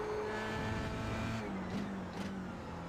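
An F3 open-wheel race car at Interlagos in the iRacing simulator, its engine droning at steady high revs, then dropping pitch through a downshift before climbing again on the throttle, heard alone without talk.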